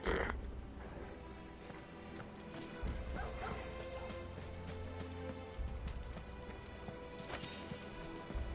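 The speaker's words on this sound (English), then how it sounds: "Yet you still make the horrible dog pain noises." Dog enemies in the video game Final Fantasy XVI yelp and whimper in pain amid game music and combat effects, with a few short cries standing out over a steady background.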